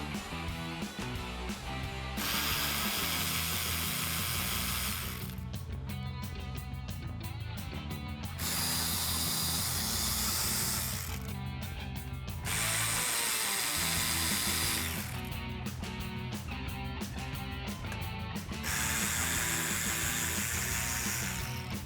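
A 5.5mm socket removes the lower bumper screws on a 2005-2009 Ford Mustang, giving repeated bursts of close mechanical ratcheting and whirring that alternate with quieter stretches, with no voices.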